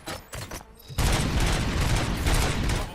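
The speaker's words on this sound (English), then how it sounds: "Gunshots? What's going on?" Gunfire erupts in the video game Robocop: Rogue City, a loud sustained burst of rapid shots that kicks in abruptly after a quieter opening and keeps rattling densely to the end.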